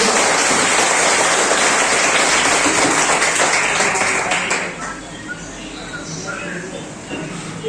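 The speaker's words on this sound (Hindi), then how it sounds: "तो एक बार फिर से जोरदार तालियों से गणेश सर का स्वागत किया जाए" Loud, sustained applause from a crowd welcoming a teacher at a Teacher's Day event, continuous clapping that fades after a few seconds into quieter room noise.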